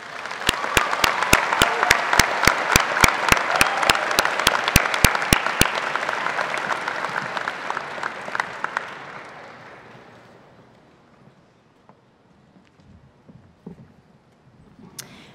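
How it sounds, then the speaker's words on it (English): A large audience applauds at a university new-student convocation, with loud, sharp rhythmic claps cutting through dense clapping for several seconds before the applause thins and fades to near quiet. "I think we need to give ourselves one more round of applause"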